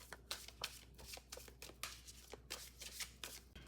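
Tarot cards being shuffled and drawn by hand, a rapid series of crisp riffling flicks and soft slaps at close range, faint and steady with no talking.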